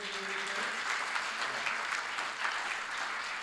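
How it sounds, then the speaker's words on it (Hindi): Audience applause at a crowded political gathering on stage, a dense steady wash of clapping that carries on for several seconds at an even level. "एक बार तालियां होनी चाहिए।"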